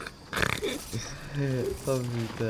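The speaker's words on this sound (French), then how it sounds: "Que des cochons." Pigs grunt and oinking squeals come from a video game, a few short snorts mixed with excited talk from a player.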